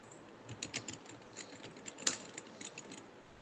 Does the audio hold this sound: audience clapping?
no